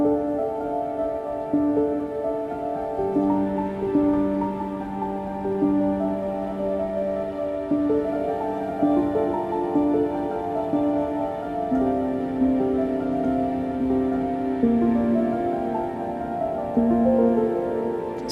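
A sampled piano patch from Orchestral Tools Habitat plays slow, sustained chords and soft melodic notes wrapped in an ambient atmospheric wash, gentle and continuous throughout, with no talking.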